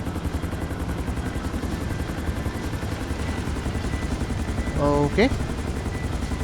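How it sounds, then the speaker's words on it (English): A Sea Sparrow helicopter in the video game GTA 5 gives a steady, loud rotor chop throughout, and a voice speaks briefly near the end. "I'm going to be doing the Epsilon Tract side quest using a Sea Sparrow. This bird, this helicopter, will allow me to land on the sea itself."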